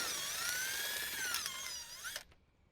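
Power drill whining steadily at high speed as it backs a bolt out of a soundbar in a 2007–2014 Jeep JK Wrangler. The pitch sags slightly under load, then the motor cuts off abruptly. Close and loud, with no voices.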